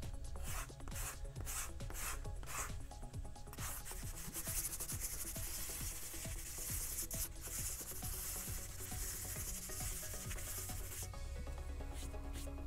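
Sanding a urethane coating over foam Boba Fett armor, rapid rhythmic rasping strokes up close, quick back-and-forth rubbing at first and then a denser, continuous scrubbing.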